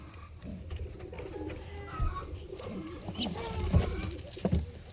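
Racing pigeons coo in a loft, several soft throaty calls rising and falling close by, with a person talking over them.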